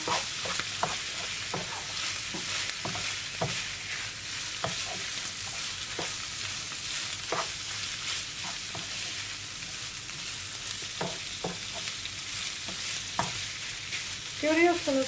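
Spiced chicken for tantuni, seasoned with black pepper and cumin, sizzles in a frying pan while a utensil stirs it in repeated scraping strokes, close and steady with no talk.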